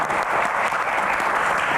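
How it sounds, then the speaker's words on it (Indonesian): Studio audience applause during a televised Indonesian talk show segment on the Hajj cartel, a dense, steady clapping that fills the whole moment at even loudness with no talking over it. "tepuk tangan"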